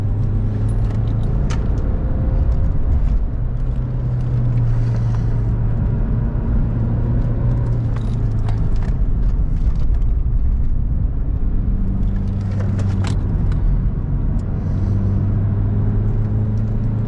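An Opel Astra H laps a race track, its engine droning steadily with low rumble and shifting tone as it accelerates and slows, loud and continuous from inside the car.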